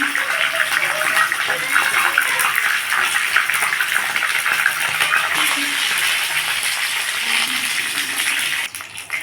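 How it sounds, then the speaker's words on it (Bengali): Loud, dense hiss of a fish head frying in hot oil, continuous and close throughout, with a voice faintly audible beneath the sizzle. "এবার এর মধ্যে মাছের মাথাটা ভেজে নেব"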